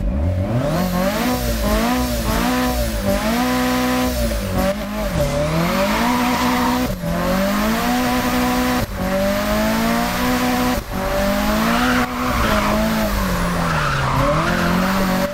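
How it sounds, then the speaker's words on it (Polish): A tuned car in a racing video game revs loudly and repeatedly, its engine pitch climbing and dropping through gear changes, with tire squeal mixed in, close and dominant with no talking. "posłuchajmy, jak samochód brzmi po tuningu."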